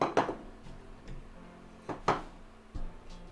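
Saucepan being handled in a kitchen while making béchamel for lasagna: a few sharp metallic clanks and knocks at irregular intervals, close by, with quiet handling noise in between.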